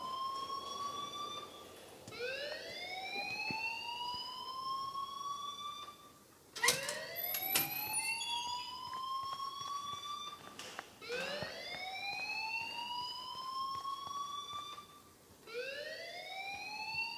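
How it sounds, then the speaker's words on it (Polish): A rising electronic fire alarm in the video game Life is Strange whoops repeatedly in long sweeping cycles, with brief gaps and a few sharp clicks between them, fairly quiet and steady. "please turn off that alarm"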